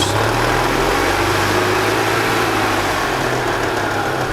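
A gas-powered 2002 EZGO TXT golf cart engine idles in a steady, continuous low rumble with a constant hum, close and fairly loud, with no voices.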